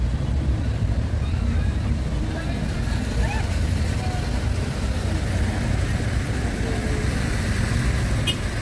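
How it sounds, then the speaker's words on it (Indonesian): Strong floodwater rushing around a car stuck in a flooded road in Sidrap, South Sulawesi, a steady loud wash of churning water close by with engine rumble underneath. "Cukup deras airnya."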